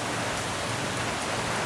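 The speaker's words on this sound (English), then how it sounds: "Starting to rain pretty heavy." Heavy rain pours steadily during an evening wind storm with a tornado warning in Walla Walla, a dense, continuous hiss with no breaks and no voices.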